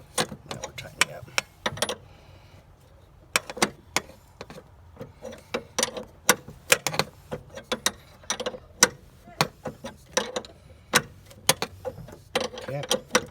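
A part on a 1997 Honda Civic is tightened by hand, giving a close series of sharp metallic clicks and ratcheting taps. The taps come in uneven clusters over quiet workshop background.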